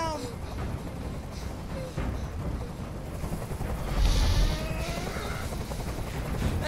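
A helicopter drones steadily overhead amid dense background noise, swelling louder for a moment midway, with a voice speaking over it.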